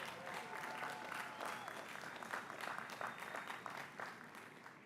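A large audience at a St. Elizabeth University graduation ceremony applauds, a dense, continuous wash of clapping that fills the hall at moderate distance and holds steady throughout.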